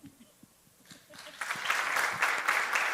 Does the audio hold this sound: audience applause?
yes